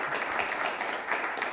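Audience applause at a diplomacy conference panel, a short burst of steady clapping from a crowd, fairly faint and continuous with no voices over it.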